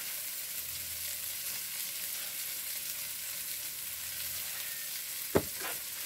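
Onion frying in a pan gives a soft, steady sizzle at low level, with a sharp clink of a utensil near the end.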